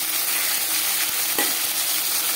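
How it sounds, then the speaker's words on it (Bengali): Rohu fish head fries in hot oil in a pan, a loud dense continuous sizzle with a few soft stirring clicks, close and alone without speech. "মাছের মাথা ভাজা হয়ে গেছে।"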